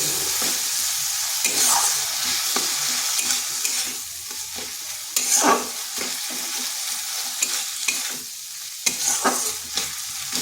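Mung dal stir-fried in a pan with spices and melted tomatoes, a steady close sizzle with scraping stirs and clanks of a spatula throughout.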